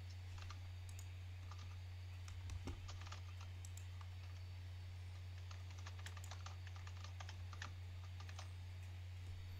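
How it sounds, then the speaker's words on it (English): Computer keyboard typing, a steady run of quick key clicks over a constant low hum, with a crackling fire ambience in the background; no one speaks. "I'm typing."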